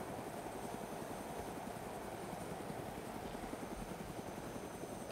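A helicopter in the Arma 2 DayZ mod video game comes in to land, its engine and rotor making a steady, continuous whir with a fast, low chopping pulse throughout, and nobody talks.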